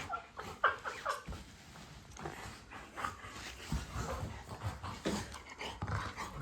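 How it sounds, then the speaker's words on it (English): A golden retriever trailing close behind on a walk home, its soft whimpers, panting and light yips coming in scattered bursts over steady outdoor background noise. "Dog is following me to my house."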